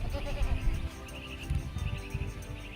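Goats bleat on a farm, a few wavering cries rising over rustling background noise with no talk.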